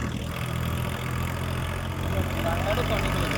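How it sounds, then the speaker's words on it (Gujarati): A tractor engine chugs steadily on a road at a low idle-like rumble, close and continuous, with a voice speaking briefly over it. "હવે મિત્રો ટ્રેક્ટર ચડી ગયું છે રોડે"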